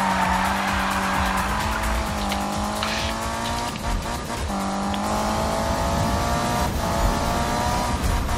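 A Need for Speed video game race with a Beck Kustoms F132 car: engine revs rise and shift through gears alongside tire squeals and skids, loud and continuous, with no talk over it.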